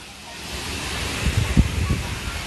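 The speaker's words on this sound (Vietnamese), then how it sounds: "Wow, suối đẹp lắm chị Thi ơi." Rushing stream water at Pa Sy waterfall in the Kon Tum forest, a steady broadband wash with wind noise, growing a little louder, with a few low thumps and brief voices over it.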